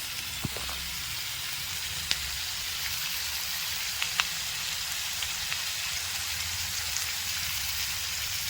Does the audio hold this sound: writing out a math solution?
no